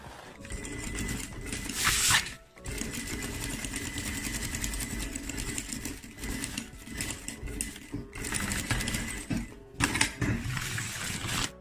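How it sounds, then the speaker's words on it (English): A sewing machine stitches lengths of gele fabric together, its fast needle chatter running near and steady with brief pauses and restarts, no voices. "I will take it to the machine and I will join this and this together."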